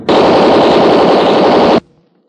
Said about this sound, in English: That machine gun won't do you any good, Race